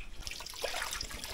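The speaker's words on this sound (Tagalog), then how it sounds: "Malakas ang tubig namin ngayon kasi umuulan guys." Spring water gushing strongly after rain, a steady broadband rush with bright splashy trickling detail throughout, close and continuous with no talk.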